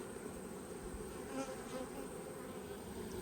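Honey bees buzz during a beehive inspection, a faint, steady, close hum that rises slightly as individual bees pass near, with no talk.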